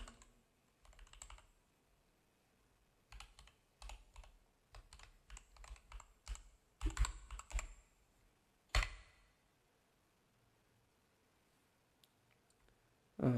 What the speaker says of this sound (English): Now type your email